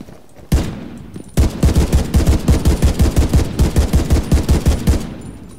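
An automatic weapon is test-fired in The Division 2: one sharp shot, a short pause, then a loud, steady burst of rapid, evenly spaced rounds lasting several seconds, close and without talk.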